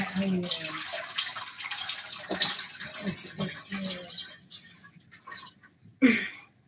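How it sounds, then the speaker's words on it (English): Lye water is poured down a stick blender into soap batter, giving a splashy, trickling liquid pour that comes and goes in bursts, with a few brief clinks and a louder splash near the end. "I'm going to pour the lye water down the stick blender"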